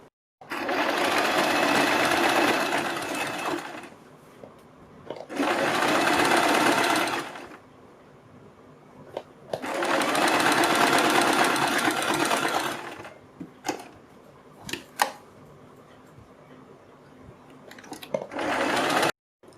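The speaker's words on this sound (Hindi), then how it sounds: "और फिर हम यहाँ से सिलाई लगानी शुरू करेंगे।" A sewing machine stitches a net neck strip on a kurti, whirring loudly in several long runs of a few seconds each, separated by quieter stretches of fabric handling and clicks.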